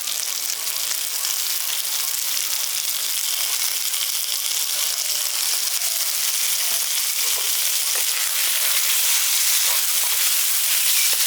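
Gobindobhog rice stirred into a pan of frying potato and pointed gourd masala, giving a steady broadband sizzle with soft scraping stirs throughout, close and even, with no voices.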